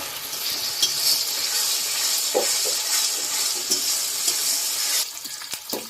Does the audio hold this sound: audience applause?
no